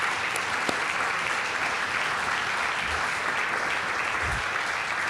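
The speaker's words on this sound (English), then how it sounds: "let's have one more round of applause for our" A large crowd at a 2022 athletic hall of fame ceremony gives sustained, even applause for the inductees, a dense, steady wash of clapping throughout with no let-up.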